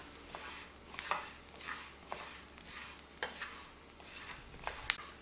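Coriander seeds dry-roasting in a pan are stirred with a utensil, giving faint, irregular scraping and rattling strokes with soft clinks over a low background hum.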